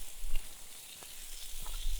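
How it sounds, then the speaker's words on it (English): Food sizzles in a pan over a campfire, a faint, steady hiss broken by a few soft pops and crackles. "Sizzling away nicely."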